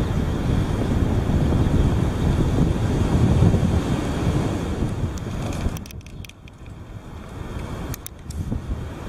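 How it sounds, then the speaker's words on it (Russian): Strong wind roaring outdoors on an empty street where a gull is about, a steady loud rush with heavy buffeting on the microphone that eases partway through, leaving thinner gusts and rattling, with no voices. "Ветер так шумит здорово."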